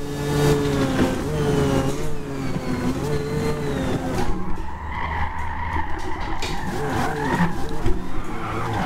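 A Mazda RX-7 drifting in the racing game Forza Motorsport, engine whining through revs and shifts while tires skid and squeal continuously, loud throughout.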